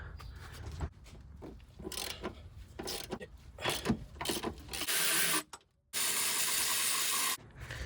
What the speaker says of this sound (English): So now you notice we have two 16 millimeter bolts that we got to remove.